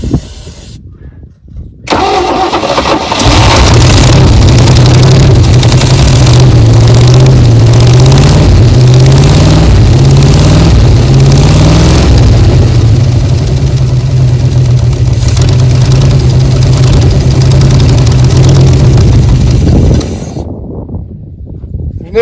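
A 1969 Chevy C10 custom truck engine, long buried in a field and being revived, catches after a brief crank and runs at a loud, steady, close idle for about seventeen seconds before cutting off.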